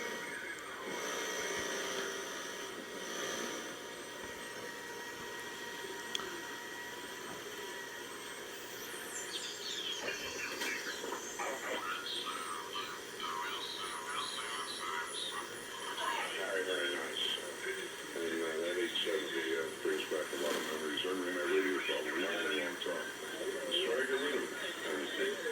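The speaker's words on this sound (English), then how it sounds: "I'm adjusting the RF gain on the back to start hearing more noise and out of band garbage coming in" Shortwave radio receiver with its RF gain turned up, giving constant hiss and static with sweeping whistles, warbling tones and garbled out-of-band signals that grow busier over time, while a person talks.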